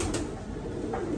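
Pigeons in a loft in Chittagong, moulting and kept indoors in hot weather, giving soft low cooing calls close by over a steady background hum.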